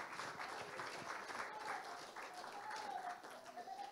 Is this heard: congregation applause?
yes